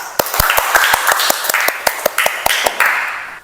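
A small classroom group gives a short burst of applause for a student, a few close, distinct hand claps falling in a loose, irregular rhythm over a few seconds before trailing off.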